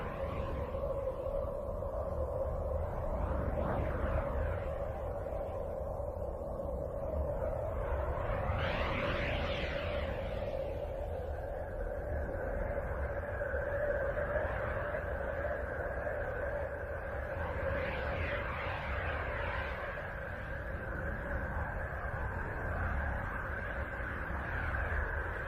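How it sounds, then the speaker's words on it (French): Space recording of sound from the planet Uranus: a continuous eerie drone with sustained wavering tones that slowly rise and fall, steady and fairly loud for the whole stretch, no talking. "on passe cette fois-ci au son provenant d'Uranus, la 7ème planète du système solaire."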